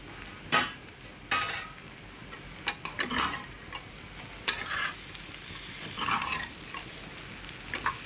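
Upma fries softly in a pan while a spoon stirs it, with several sharp scraping knocks against the metal over a low, quiet sizzle, close by and without talk.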